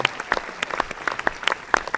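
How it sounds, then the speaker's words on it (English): Audience applause in a London IMAX cinema during a Q&A, sparse and scattered claps with sharp individual hits over a thin wash, moderately loud and fairly close. "A round of applause for Good Mr. Gavin Gavin, Allen"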